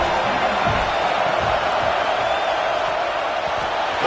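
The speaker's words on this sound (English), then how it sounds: "how nice is it to have the home crowd going absolutely bananas" A home crowd at a football game roars in a dense, steady wall of cheering and whooping that fills the stadium, with a commentator's voice faintly mixed in.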